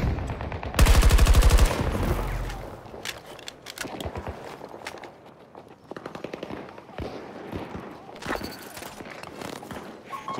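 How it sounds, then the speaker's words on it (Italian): Battlefield 2042 Conquest match on the Caspian map: a loud close burst of rapid automatic gunfire, then scattered shots, footsteps and clatter continuing at varying distances. "Lancio una granata, spostarsi!"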